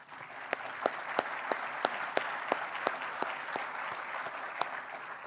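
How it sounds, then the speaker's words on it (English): An audience at a policy summit on mental health gives a round of applause, dense continuous clapping with a few sharper louder claps standing out, heard alone without talk. "for right now, let's give them a round of applause."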